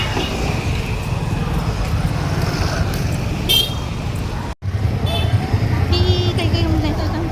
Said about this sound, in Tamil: இங்கே ஒரே டிராஃபிக் தான்